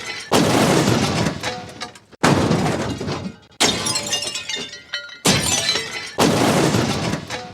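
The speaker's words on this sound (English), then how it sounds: "There's a shitload of crashing noises." Loud crashing and shattering sound effects from the video game Suikoden, arriving in five dense bursts of breaking glass and debris with brief gaps between them.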